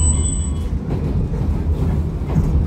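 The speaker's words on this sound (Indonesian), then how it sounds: "mundur keretanya." Passenger train of PT Kereta Api Indonesia reversing, heard from inside a carriage as a steady low rumble and rolling noise with a brief high tone at the start, no speech.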